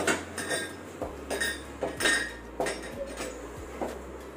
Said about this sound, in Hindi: और सारे बर्तन वॉश हो रहे हैं